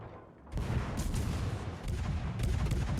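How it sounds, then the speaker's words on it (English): Naval guns on the classic US cruiser Omaha in World of Warships fire repeated heavy booms, rumbling blasts rolling over one another at close range with no pause between volleys. "We can actually start shooting way ahead of time, knowing that there's a lot of flight time"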